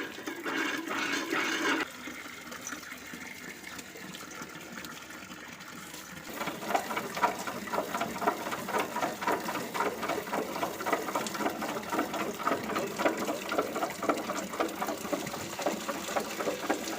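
Water draining away down a clogged household sink drain that holds banana peel scraps, a steady gurgling rush running continuously and fairly close after a brief softer flow at the start.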